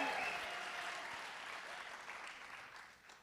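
Live event audience at an Ignite San Francisco talk night bursts into loud applause and cheering as a rehearsal, strongest at the start and tapering over a few seconds.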